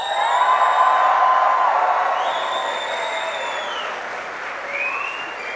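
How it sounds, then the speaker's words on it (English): A graduation audience in a ceremony hall claps and cheers together, a dense, loud wash of applause with whoops that peaks early and then slowly tapers off. "Can I have a proper cheer for everybody,"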